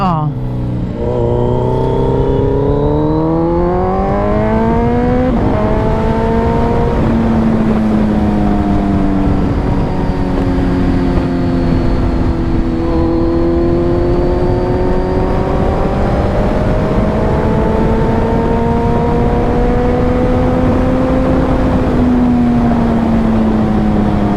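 A Kawasaki Z900 motorcycle fitted with a LeoVince full exhaust revs loudly and continuously, its engine note rising and falling through several long sweeps at close range, with no pauses.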